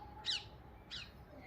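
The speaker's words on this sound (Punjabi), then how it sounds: "ਤੋਤੇ ਜਾ ਰਹੇ" Parrots fly past with two short, harsh squawks about half a second apart, fairly faint and set against quiet background noise.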